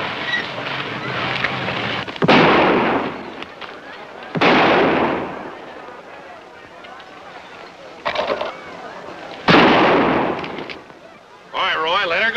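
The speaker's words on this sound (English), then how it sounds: "what kind of shooting do you call that?" Gunshots in a 1950 Western, with four loud sharp blasts spaced a couple of seconds apart, each trailing off, over faint background sound and a voice near the end.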